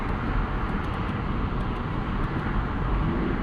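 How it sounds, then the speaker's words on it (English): A 2025 Lexus LC 500 Convertible's V8 engine rumbles steadily and loudly through a rush-hour commute, a continuous broadband drone with road noise, no voices present. "I don't care about anything except hearing this V8."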